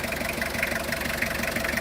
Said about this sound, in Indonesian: Mesin diesel 2 liter ini suaranya mirip traktor, tapi bandel banget.